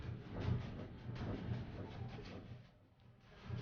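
A Minecraft train riding along rails in a modded game, a steady, faint low rumble with soft rhythmic clacking that dips briefly before swelling again, with no talk.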